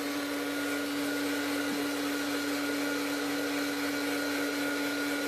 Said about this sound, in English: Now, then there's the heat tool. I have to dry this as well.